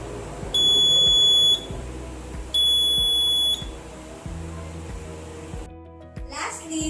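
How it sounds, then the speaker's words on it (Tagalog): Overcurrent indicator buzzer on a battery power system sounding two steady high-pitched tones about a second each, separated by a short gap, over a low background hum. "we'll hear the buzzer as an indicator that the current drawn in the battery already exceeds 4 amperes"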